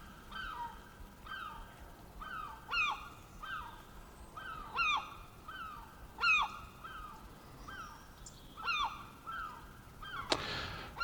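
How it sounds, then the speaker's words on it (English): A large seagull calls repeatedly in a seaside village at dawn. Its honking, yelping cries come in regular bursts about every second or two and sound fairly close and clear, with a brief rustle at the end. "as I compete with a supersized seagull"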